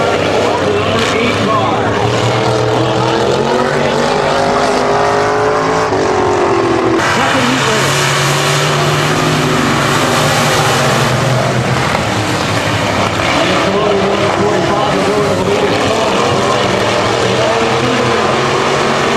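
Race cars roar around a speedway at the start of a 250-lap race, engines loud and continuous with shifting pitch as the pack passes close by; no one talks over the racing.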